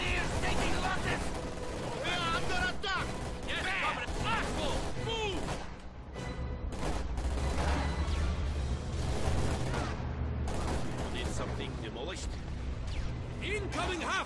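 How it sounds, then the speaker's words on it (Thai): Explosions and gunfire in Company of Heroes 2, a World War II strategy game, with scattered booms and crashes under near-constant talking. "โดนระเบิดซะ"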